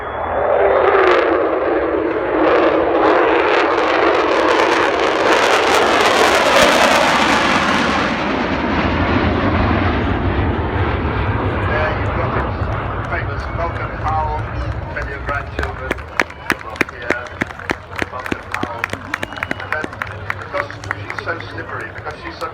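Avro Vulcan XH558 jet bomber engines roar loudly overhead during a flying display at Church Fenton, a sustained, rushing wash that slowly shifts and fades, with a voice talking over it and crackling later on.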